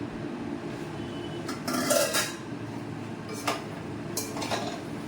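A spoon clinks and scrapes against a pot while stirring a milk and salt mixture, with a couple of brief louder metallic bursts over quiet room hiss and no talk.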